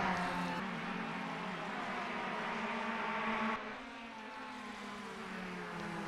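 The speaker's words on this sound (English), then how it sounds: "Did have a car running obviously on the grass, I heard there" A touring race car in the Automobilista racing game at Cascavel runs on grass, a steady droning engine at moderate distance that drops slightly in level partway through, with no talk.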